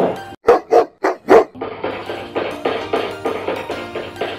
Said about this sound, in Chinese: 似狗吠多啲